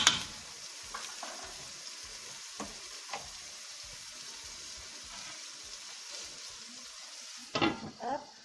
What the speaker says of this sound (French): on va laisser mijoter, on va dire 3-4 minutes.